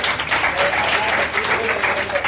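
Loud, steady applause from the audience at a free coaching centre function in Udaipur, welcoming a chief guest, with voices audible through the dense clapping.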